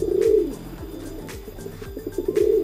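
A domestic kolong pigeon coos repeatedly up close, low rolling calls in a steady rhythm with soft background birds and faint ambient noise.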